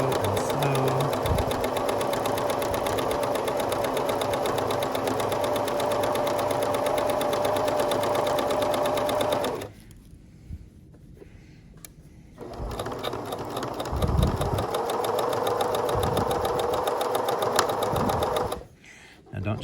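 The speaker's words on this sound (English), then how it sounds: "And so we're just gonna sew and sew and sew." A sewing machine stitching a skirt waistband closed runs in fast, steady mechanical bursts close by, pausing for a few seconds in the middle before resuming, with a person talking over it.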